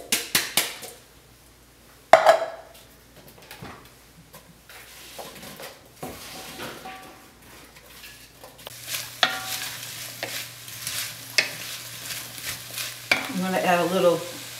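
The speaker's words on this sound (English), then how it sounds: "I'm going to saute the onions and the apples until they're tender" Onions and apples sauté in olive oil in a pan: a soft, steady sizzle with scattered stirring clatter and utensil knocks, growing busier and brighter toward the end, with no voices.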